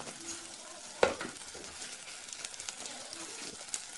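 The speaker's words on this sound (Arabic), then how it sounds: "بس تخليكي تشوحي الرز مع البصله والكبد والقوانص شويه قبل ما تحطي الميه" Rice with onion, liver and gizzards sautéing in a pan, a soft steady sizzle with a sharp clink of a utensil near the start and light stirring scrapes throughout.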